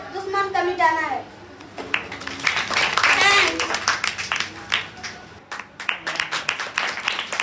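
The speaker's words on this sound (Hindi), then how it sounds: "एक जोरदार ताली बजाइए इन बच्चों के लिए" Applause from the audience greets a children's dance performance at an Independence Day cultural program, with crowd clapping heard under continuous talk and children's voices.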